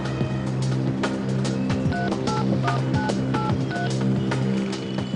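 Telephone keypad dialing tones beep in a quick run of short, distinct pitched presses for a local call, heard over a steady background hum with no talk.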